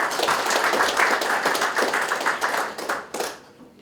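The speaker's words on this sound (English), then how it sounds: "they deserve a big round of applause" A room of guests at the 2013 Fiji Football Association awards night claps for the sponsors, scattered distinct hand claps forming a lively round of applause that thins out and fades toward the end.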